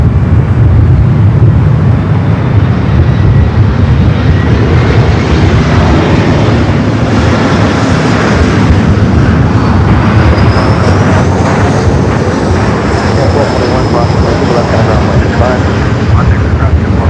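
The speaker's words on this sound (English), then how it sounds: "Flight 11 heading back to Tokyo Narita, the 777-300ER." A Boeing 777-300ER departing Los Angeles International Airport for Tokyo Narita, its loud, sustained jet engine roar with a slowly shifting whine heard up close, mixed with wind rumble and a voice in the background.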